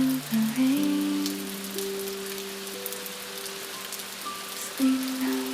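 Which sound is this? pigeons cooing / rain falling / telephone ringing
rain falling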